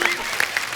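Studio audience applause on a television comedy talk show, a short burst of steady, moderately loud clapping from the crowd.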